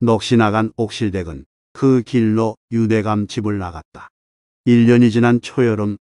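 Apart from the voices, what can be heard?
No everyday noise stands out behind the speech.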